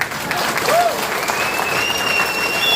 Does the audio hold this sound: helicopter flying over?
no